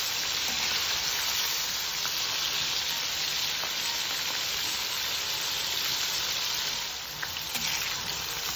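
Squid rings frying in hot oil until golden brown, a loud, dense, crackling sizzle that stays steady and close throughout, dipping briefly near the end.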